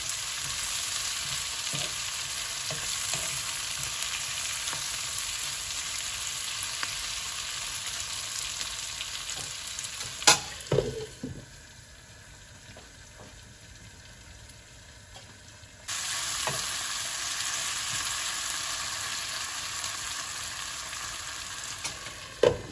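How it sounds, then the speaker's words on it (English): Cherry tomatoes frying in a pan for a slow-cooked mutton curry, a steady close sizzle with stirring knocks, dropping quieter for a few seconds midway before the sizzle returns. "And now the tomatoes goes in."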